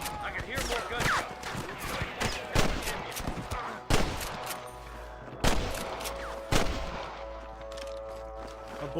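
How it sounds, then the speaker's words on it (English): Gunfire in the video game Red Dead Redemption: a busy firefight with repeated sharp shots and several heavier bangs over about nine seconds, with game voices and background noise throughout. "I can hear more gunshots."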